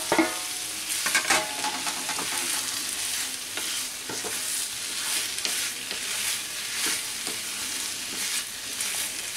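Potatoes hit a pan of cooking vegetables for a Bengali vegetarian papaya ghonto, giving a steady crackling sizzle with scrapes of stirring throughout, close and moderately loud, with no voices.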